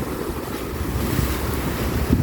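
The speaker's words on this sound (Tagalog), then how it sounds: "Lakas ng hangin." Strong wind gusting steadily across an open Hong Kong beach at Lido Beach, Tsuen Wan, with a dense broadband rush and rumble of wind on the microphone and surf, loud and continuous, without talk.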